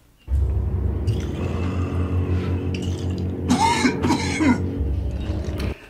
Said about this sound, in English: Bro, stop coughing, bro.